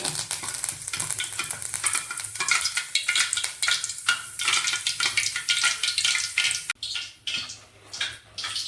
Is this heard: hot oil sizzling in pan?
yes